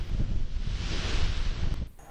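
Strong wind gusts across the open deck of a ferry crossing the Mediterranean between Algiers and Marseille, a broad continuous roar that drops away abruptly near the end.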